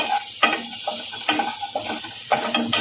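Capsicum sizzles in a frying pan as it is stirred, with repeated scraping and clattering strokes roughly every second over a continuous frying hiss, close and fairly loud.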